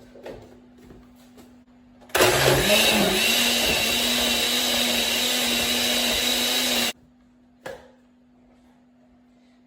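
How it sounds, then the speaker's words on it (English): A kitchen blender whirs loudly for about five seconds as it purees boiled pumpkin, starting with a short uneven surge before settling into a steady high whine, then cutting off abruptly to quiet. "Going to blend a little first, and then we add the rest of it"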